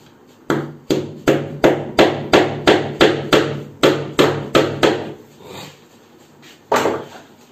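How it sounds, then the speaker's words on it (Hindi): A number 17 nail hammered into plywood by a carpenter: a rapid run of about a dozen sharp, close hammer blows at a steady rhythm, then a pause and one final strike, with no talking. "17 नंबर की एक कील इधर इधर मार लेंगे हम इस जगह, एक कील मार लेंगे इस जगह"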